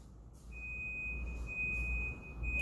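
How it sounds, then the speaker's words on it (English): A steady, high electronic beep tone from a kitchen timer sounds continuously over a low background hum, signaling scones baking. "the timer is going off on my scones"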